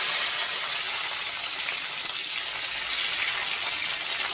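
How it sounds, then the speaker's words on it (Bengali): Tomato pieces fry in hot mustard oil with nigella seeds and green chillies, giving a steady, dense sizzle that holds evenly and close throughout with no talking. "টমেটোটা একটু ভাজা ভাজা হবে"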